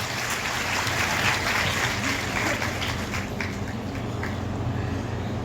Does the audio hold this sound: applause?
yes